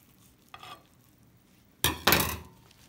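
A mozzarella-stuffed potato arancini croquette being cut, giving a faint early crunch and then a louder crisp crackling slice against a plate, close and with no talking.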